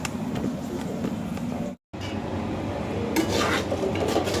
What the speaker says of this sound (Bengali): চালটাকে ভালো মতো ভেজে নিচ্ছি